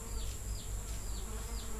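Uruçu boca de renda stingless bees buzz steadily around their hive box, a close, continuous insect hum with a few swooping passes of individual bees over it.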